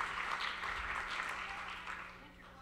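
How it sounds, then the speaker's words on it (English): Scattered applause from a modest audience at a live curated talk event, a soft, fairly distant patter of hands that fades gradually over a couple of seconds. "A round of applause for Colin, Tenacious Ventures, Splash."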